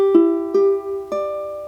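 Concert ukulele in standard tuning strummed three times, each chord ringing clear and sustained before the next, close and alone.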